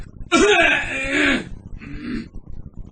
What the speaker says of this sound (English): hang on, I can clear my throat.